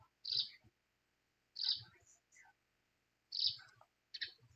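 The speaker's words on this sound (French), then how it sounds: "Les oiseaux chantonnent." Birds chirp in the Suikoden video game, with three or four short, bright tweeting bursts spaced about a second apart over a quiet background.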